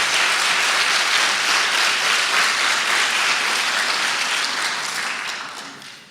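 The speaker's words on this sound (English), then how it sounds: "When you applaud before you know what I'm saying" Dense, sustained applause from a large crowd at an address on the Iran nuclear agreement fills the space at steady volume, then gradually fades out near the end.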